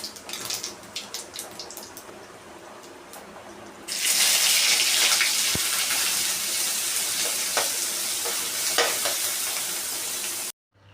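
Mustard seeds and cumin go into hot oil in a kadhai to temper green cluster beans (gavar). A quiet kitchen with faint clicks suddenly gives way to a loud, steady, close hiss that runs for about six seconds and then cuts off.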